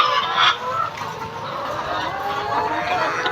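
Hens on a small village poultry farm cluck close by in a busy, overlapping chorus, with farmyard background noise and no clear talk.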